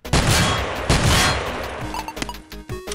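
Rapid loud gunfire from a video game weapon, dense bursts of shots for about two seconds, then a few sharper single shots and electronic game tones as the firing tails off, no speech.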